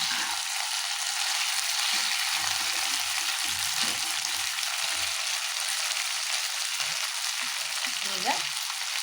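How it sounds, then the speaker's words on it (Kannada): Chicken manchurian fries in a pan with a steady, loud, close sizzle that never lets up, while faint low clatters of stirring come and go beneath it. "ಎಷ್ಟು ಚೆನ್ನಾಗಿ ಫ್ರೈ ಆಗ್ತಾಯಿದೆ"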